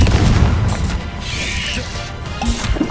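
Bombarda blasting spell explosions in Hogwarts Legacy, heavy booming crashes and thuds layered over loud rumbling combat noise, with repeated impacts near the start and end.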